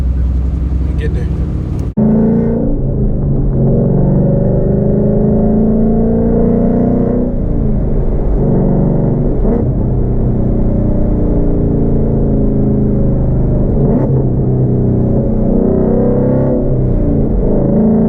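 Car engine rumbling from inside the cabin on the way to a car meet, a loud steady low drone with slight rises in pitch as it accelerates, continuous after a brief knock at the start.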